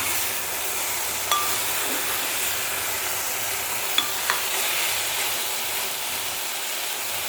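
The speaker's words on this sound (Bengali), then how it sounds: "5 মিনিট একটু মশলাটাকে ভাজবেন।" Continuous sizzling hiss of a spice paste frying in a hot pan for a drumstick, potato and aubergine curry, with an occasional faint clink of a utensil stirring.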